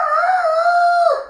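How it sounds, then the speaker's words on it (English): A single loud, drawn-out crow close by, rising slightly then falling off sharply at the end, heard alone. "the rooster crowed"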